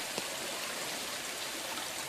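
A pond waterfall water feature in Santa Fe, New Mexico, with water flowing and splashing in a steady, soft, even rush and no change from start to finish.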